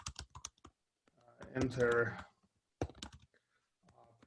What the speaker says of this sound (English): Let's see how well I do typing early in the morning.